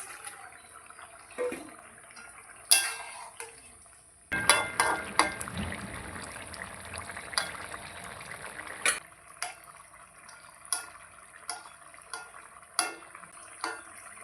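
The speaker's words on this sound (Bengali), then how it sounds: "এবার ভাজা মাছগুলো আমি ঢেলে দিচ্ছি" Fried fish tipped into a simmering curry: faint bubbling and liquid stirring broken by sharp scraping clinks of a utensil against the pot, with a louder splashy burst in the middle.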